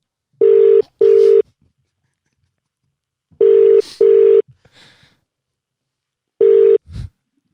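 Telephone keypad tones dial out to place a call: three loud groups of short, evenly pitched beeps in pairs and singles, separated by silent gaps, with brief faint noises between.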